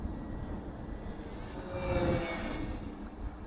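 Electric motors of an OvO RC model plane in flight, a faint, distant buzzing whine that swells briefly as the plane dives and passes, then eases back over light background rumble.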